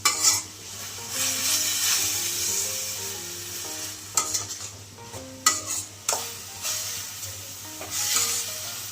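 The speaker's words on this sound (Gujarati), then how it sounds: "હવે આપણે આ રીતે ધીમે ધીમે હલાવતું રહેવાનું" Grated carrot for gajar halwa sizzles softly as it roasts in a pan, stirred steadily, with occasional louder scrapes and knocks of the spoon against the metal.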